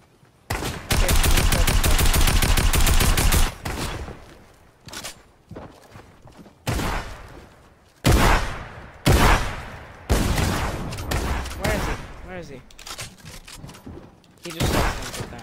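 Rapid bursts of automatic gunfire from a shooter video game, with loud volleys repeating over about fifteen seconds, broken by short pauses, quieter single shots and some footsteps.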